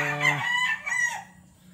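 A rooster crows at a Batangas farm, one loud, close call with a strained, rising then trailing tone that lasts about a second before fading into faint background noise.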